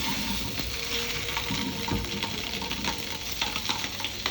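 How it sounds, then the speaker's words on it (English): Vienna sausages frying in a pan alongside pork cooking, a dense continuous sizzle with stirring scrapes, close and even throughout with no talk. "As additional, I'll just, you know, fry these Viennas."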